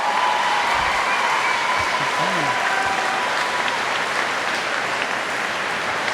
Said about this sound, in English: a round of applause for the teachers and all the staff who has worked with you the last 3 years